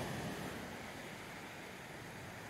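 Sea waves surging up a rocky beach at Ballygally in December as the tide comes in, a steady broad wash of surf, close and fairly loud, with no voices.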